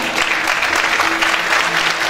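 Audience applause welcoming a singer onto the stage at a Turkish music concert, a dense, steady wash of clapping from a large crowd lasting throughout with no voice over it.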